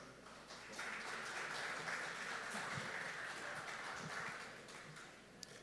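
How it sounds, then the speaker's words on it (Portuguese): Audience applause for a speaker at a hotel school event in Canela, Rio Grande do Sul, a steady, fairly faint wash of many hands clapping that holds for several seconds, sounding somewhat distant. "Senhoras e senhores, uma salva de palmas para Marcos Vian."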